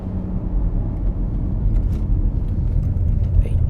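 A 2019 BMW X4 G02 drives on a race track, its engine a steady low rumble with road and wind noise filling the background, holding at a constant moderate level with no talk.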